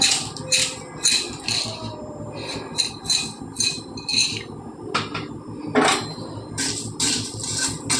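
Chana dal and urad dal roasting in a pan, with dry lentils rattling and a metal spoon scraping and clinking against the pan in irregular bursts, close and fairly loud with no talk.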